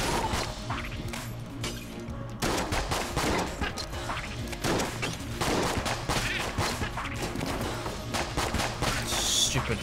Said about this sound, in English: Stupid shotgun bullets